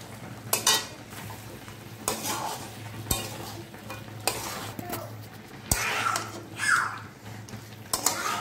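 Fish pieces frying in spice masala for golden fish kalia, a close, steady sizzle broken by sharp clinks and scrapes of a metal spatula against the pan every second or so.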